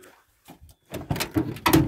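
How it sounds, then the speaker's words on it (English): The door of a 1978 Ford F250 truck is opened, giving a few close, clunky metallic knocks and a latch rattle that build over about a second after a quiet start. "Can I open the door?"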